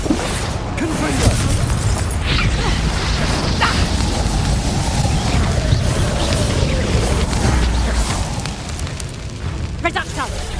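Fiery blasts and rumbling explosions from Confringo spells cast in Hogwarts Legacy, a loud, continuous roar of combat with crashing impacts, someone talking over it.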